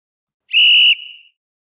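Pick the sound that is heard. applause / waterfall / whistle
whistle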